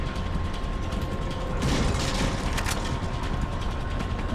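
Mechanical clicking and ratcheting of a shotgun being reloaded in the video game Resident Evil 4, a steady run of close metallic clacks over a constant game background hum, brightest around the middle.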